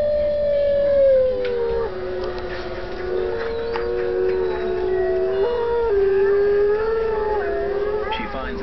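A wolf pack howls together in the wild, long wavering overlapping howls rising and falling in pitch, several voices layered at close to moderate distance, continuous and fairly loud throughout.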